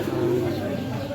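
Pigeons cooing at the Ruhitpur pigeon market in Bangladesh: a low, close, throaty coo rolls through the short stretch amid a busy crowd murmur, with voices talking underneath.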